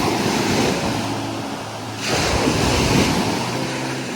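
Ocean waves at high tide on Boracay beach rush and wash steadily nearby, and a fresh surge of surf breaks louder about halfway through, with wind noise mixed in.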